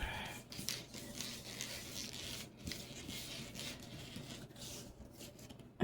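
Tarot cards shuffled by hand make soft, irregular rustling and riffling strokes, close and quiet, with small gaps between bursts and no talking.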